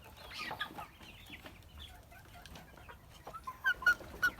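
White Leghorn hens cluck softly in scattered bursts, with a few sharper, louder calls near the end, amid quiet farmyard background.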